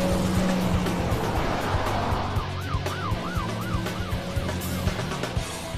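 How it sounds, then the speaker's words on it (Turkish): A police car with its siren wailing in a rising and falling warble chases another car, engine noise and repeated thuds underneath, fairly loud and close. "Polis Carter'ı batıya doğru takip etmeyi sürdürüyor."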